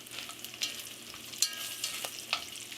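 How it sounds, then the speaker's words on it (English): Quiet, crackly sizzling of bacon frying in a pan, with a few sharper pops scattered through. "So we've been frying this bacon for approximately"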